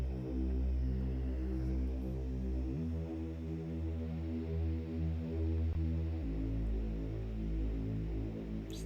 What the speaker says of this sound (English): this sound again, it's just a distorted saw wave with unison on it